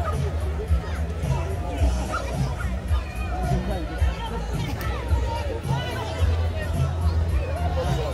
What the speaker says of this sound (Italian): sentili, senti che tifo